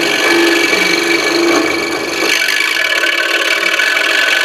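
A saw rasps steadily through wood, loud and close, about three-quarters of an inch from finishing the cut, with a brief slowdown midway before the cutting strokes resume.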